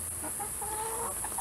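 A rooster gives a few short clucks and a drawn-out call, fairly faint against a steady background hiss.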